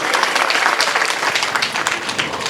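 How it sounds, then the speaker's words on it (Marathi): A crowd at a temple gathering at Dattagad applauds Mukund Maharaj's team with dense, continuous clapping that holds steady and loud for a few seconds. "एकदा मुकुंद महाराजांनी त्यांच्या टीमसाठी टाळ्या वाजवल्या"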